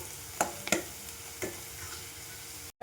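Onions frying in a pan for an egg gravy, a steady soft sizzle with a few sharp scraping stirs early on, close and fairly quiet, ending in a brief dropout.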